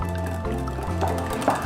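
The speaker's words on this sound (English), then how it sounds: "and then you'll just pour it on top" A whisked dressing with dried parsley and dried thyme pours steadily onto cooked lentils, making a soft continuous liquid trickle with faint drips, close and moderately loud.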